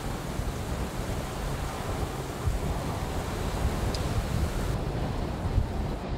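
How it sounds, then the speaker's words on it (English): Steady roar of strong wind during a tornado-producing storm in St. Tammany Parish, Louisiana, buffeting the microphone, broadband and constant, with occasional louder gusts and no voices. "it's very windy out here right now"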